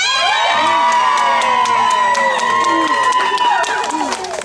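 A fan club crowd of young voices shouts and chants together in rhythmic, loud unison, with whoops and cheers rising over the group chant close by.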